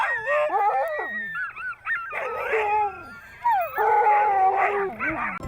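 Sled dogs in Iqaluit howling, yipping and whimpering together in loud, close, overlapping bursts with short gaps between them.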